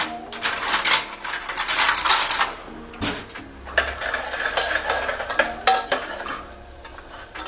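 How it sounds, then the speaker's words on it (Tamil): Buttermilk chilies, mustard seeds, chana dal, urad dal and roasted peanuts frying in hot oil in a pan, with crackling sizzle, popping seeds and a spoon scraping and stirring close by. "தேவையான காரத்துக்கு தகுந்த மோர் மிளகா, கடுகு, கடலைப்பருப்பு, உளுத்தம்பருப்பு, இந்த வேர்க்கடலை எடுத்ததை போடுறேன்."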